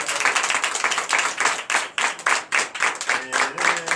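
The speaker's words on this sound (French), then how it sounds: "Donnez de vivre acclamation au nom de Jésus." A church congregation at a Sunday service in Comè, Benin claps together for Jesus in a steady, rhythmic beat, loud and close, with a few voices calling out beneath the clapping.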